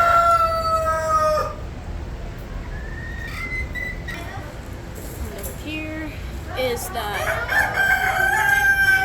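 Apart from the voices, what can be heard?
bantam rooster crowing at county fair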